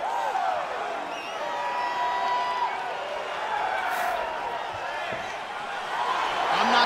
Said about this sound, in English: I'm not sure I have ever heard a louder crowd in any arena in the world than this here Bell Center in Montreal